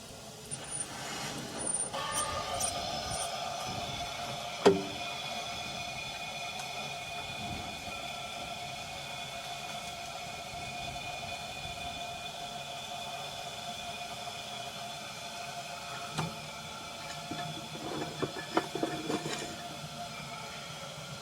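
An old Foden steam wagon rumbles along at a steady pace, its low mechanical drone and hiss punctuated by a few faint clanks.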